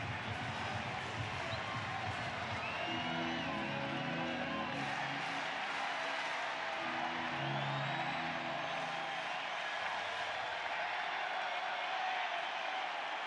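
Baseball stadium crowd at an Angels home game against the Yankees, a steady roar of many fans that swells and holds throughout, with whoops and scattered cheers and clapping mixed in.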